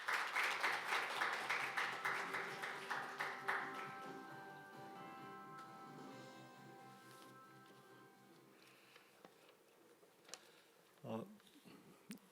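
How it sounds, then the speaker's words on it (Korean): An audience at a carbon-neutrality innovation technology forum gives a burst of loud, dense applause that gradually fades into scattered claps and quiet hall ambience. "큰 박수로 모시겠습니다."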